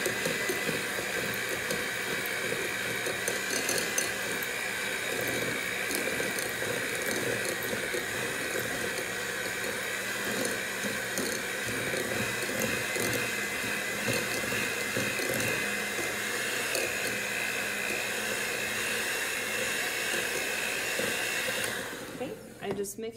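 An electric hand mixer runs on low speed through fruit pizza ingredients, giving a steady, fairly faint motor whir that continues evenly before cutting off right at the end.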